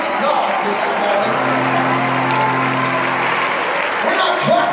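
Dense, steady applause from a funeral congregation in a church service, sustained and fairly loud throughout, with a held organ-like tone underneath and scattered voices in the crowd.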